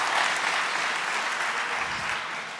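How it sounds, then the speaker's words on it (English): A dense, sustained round of applause from a large audience at the F1 in Schools World Finals awards ceremony at Silverstone, holding level throughout and easing slightly at the end. "I think we should give Crofty a big round of applause"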